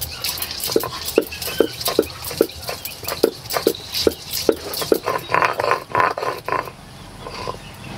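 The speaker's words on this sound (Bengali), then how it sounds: "আদা রসুন একসঙ্গে বেটে নেব।" Ginger and garlic ground together on a stone slab with a grinding stone, heard as a steady run of rhythmic scraping strokes, close and moderately loud, with no talking.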